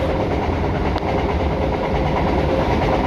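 An old British Rail Class 318 electric train runs along, with steady loud rolling rumble and faint rail clatter, heard from inside the carriage.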